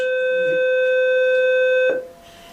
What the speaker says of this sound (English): There's always a buzzer.